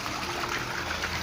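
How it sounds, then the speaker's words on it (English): Fresh water trickles steadily from an inlet into a catfish tank, a close, continuous splashing stream with no other sounds. "Then the water will now flow from here."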